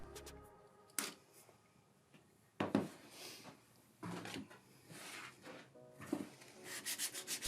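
Sandpaper rubbed along the edge of leather to burnish it, heard as several separate scratchy rubbing strokes, close and fairly quiet, with short gaps between them.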